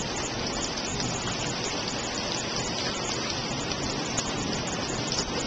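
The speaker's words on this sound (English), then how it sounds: "it's not really raining that much" Steady rain pours during a desert storm in Arizona, a dense, continuous hiss and patter of water with no break and no voices.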